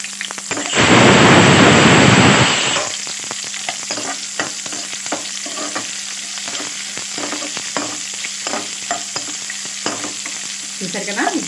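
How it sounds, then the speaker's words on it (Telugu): Sliced onions dropped into hot oil in a pan give a loud burst of broadband sizzling for about two seconds. Steady frying follows, with scraping stirs and clinks of a spoon against the pan. Nobody speaks. "ఇప్పుడు ఆనియన్స్ వేసుకుందాం."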